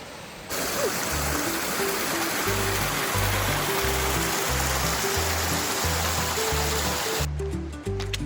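A mountain stream, the water source for a camp on the Wonderland Trail, rushes steadily nearby, a loud continuous wash of flowing water with a faint low hum beneath it.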